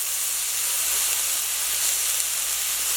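Sriracha and water hit a hot pan for a teriyaki-sriracha glaze and set off a loud, steady, bright sizzling hiss that holds unbroken throughout.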